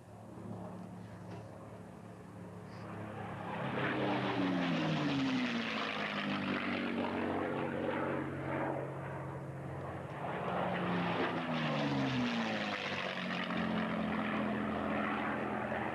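A vintage warbird propeller plane roars overhead at an air show, its engine drone swelling and fading twice as it makes passes, loud and continuous with no voices.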